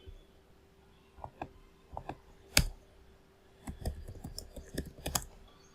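Computer keyboard keys are typed in scattered, uneven taps and small clusters, close and fairly quiet, while terminal commands are entered to install and configure PostgreSQL on Debian.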